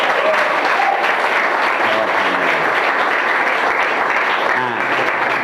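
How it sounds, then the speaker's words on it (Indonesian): Loud, dense applause from a large audience at an Indonesian religious lecture, steady throughout with a few faint voices under it. "tepuk tangan untuk kita semua"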